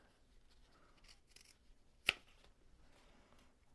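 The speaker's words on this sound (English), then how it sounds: "you're just going to want to snip off these extra pieces that are sticking out" Scissors give a single crisp, close snip while trimming fabric corners for an apron, preceded and followed by faint rustling of cloth in a quiet room.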